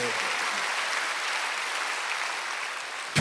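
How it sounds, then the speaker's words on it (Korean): A congregation at a Wednesday evening church service claps on cue from the pastor, a dense, uniform wash of hands sustained throughout at moderate level. "박수하세요."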